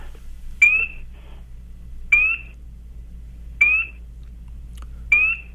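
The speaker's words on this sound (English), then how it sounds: "It's a spring peeper." Four evenly spaced, clear rising peeps from a spring peeper tree frog sound about every second and a half over a low background hum, played from a recording.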